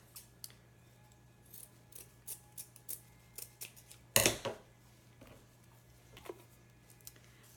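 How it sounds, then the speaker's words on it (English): Scissors snip ribbon on a Fourth of July wreath bow, a run of light, crisp clicks followed by one louder close cut, then a couple of faint snips against a low steady hum. "if you think one of them is too long, you can always trim it up"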